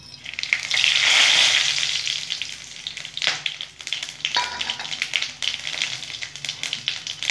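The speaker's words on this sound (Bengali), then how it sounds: "গরম হয়ে গেছে, এখানে গোটা জিরে, এলাচ, দারচিনি, লবঙ্গ ফোড়নের জন্য আমি এগুলো দিয়ে দেবো" Whole cumin, cardamom, cinnamon sticks and cloves hit hot oil with a loud burst of sizzling that eases into a steady crackling fry, with a few stirring scrapes; no voices.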